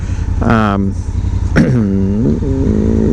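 A motorcycle rolls along a road between Naperville, Illinois, Chicago and Kenosha, its engine drone and wind rumble running steadily beneath someone talking over it.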